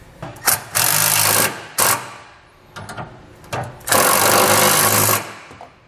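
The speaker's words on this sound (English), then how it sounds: "we can take a 1/2 inch socket or wrench and tighten those down" Power tool with a 1/2 inch socket driving flange nuts on a B and W fifth wheel underbed kit on a 2019 Ford F-350, a few loud close whirring bursts with short gaps between them.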